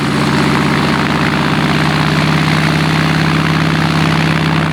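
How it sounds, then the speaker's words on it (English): A CAC Boomerang WW2 fighter's Pratt & Whitney 1830 Wasp radial engine roars steadily and loudly at close range, a constant throbbing drone with no voices. "A roar from the Pratt & Whitney 1830 Wasp radial engine, and plenty of smoke, and the Boomerang is away."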